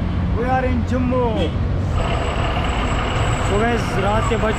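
A bus pulls in at a night stop in Jammu, its engine rumbling steadily and loudly under continuous crowd chatter and voices nearby.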